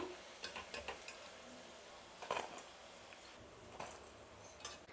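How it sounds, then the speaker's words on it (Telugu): Cauliflower pieces deep fry in hot oil for a gobi manchurian, a soft steady sizzle under a few light clicks and scrapes of a utensil stirring the pan, all faint and close. "ఇలా కనీసం 5 నుంచి 6 నిమిషాలు వేయించుకోవాలండి, అప్పుడే మనకు కాలీఫ్లవర్ బాగా వేగుతుంది"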